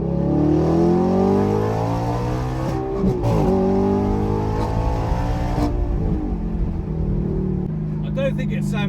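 An Audi R8 with a Quicksilver aftermarket exhaust drones loudly and steadily as it drives with the windows down, revs rising and falling, a voice talking over the engine.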